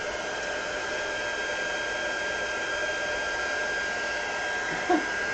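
A hair dryer blows steadily and alone at close range while drying a Mod Podge–coated craft tag on a tabletop, its whirring hum unbroken for the whole stretch apart from a brief knock near the end.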